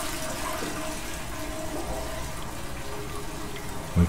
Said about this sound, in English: We can flush.